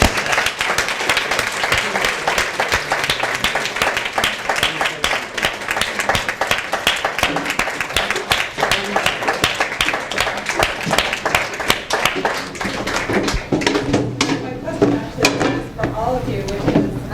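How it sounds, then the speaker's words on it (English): Applause for a presentation group at the end of a summer program, a dense, steady clatter of many hands that continues for a long stretch before thinning out, with some voices mixed in near the end. "Maybe we should do one more round of applause for a great job."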